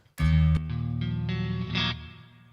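An electric guitar strikes a clean chord on its neck single-coil pickup through a Revv Generator 120 Mk3 amp, a bright sustained ring with a sharp attack, quick re-strums and a slowly fading tail, heard alone.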